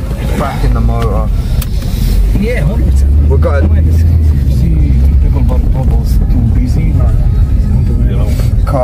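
Car driving, heard from inside the cabin, a loud continuous low engine and road rumble that swells midway, with someone talking over it throughout.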